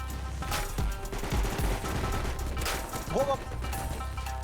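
Rapid bursts of gunfire in the video game Minecraft Bedwars crackle under background noise, with a few sharp impacts and a brief electronic tone near the end.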